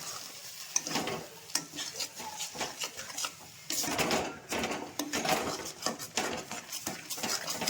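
Ground spinach paste stirred and fried in a pan for spinach bharta, with irregular close scraping and clattering strokes of a spatula against the pan over a faint sizzle, with no talk.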